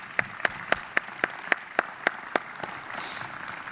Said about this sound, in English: can we have a round of applause for our folks?